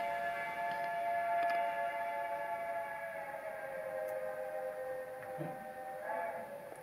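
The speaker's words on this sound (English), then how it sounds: "that was the boat, by the way, the boat we just took. It always makes that like whistling sound" A long, steady whistle-like tone holds throughout, a boat horn heard from some distance over a broad rumble of background noise.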